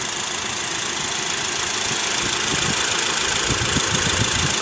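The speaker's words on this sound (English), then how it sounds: "Figured I would just show you the engine for a moment" A 2012 Honda Civic Si engine idles close by with a steady, rough mechanical hum and faint rhythmic ticking. No one speaks.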